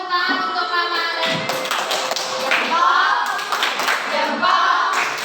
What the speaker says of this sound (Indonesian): berikan tepuk tangan untuk Rama dan